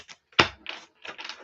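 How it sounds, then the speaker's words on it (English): Tarot cards being shuffled by hand, a sharp riffle burst followed by several softer papery flutters and slides, close and fairly quiet with short gaps between. "Not every deck shuffles nicely, but this one does."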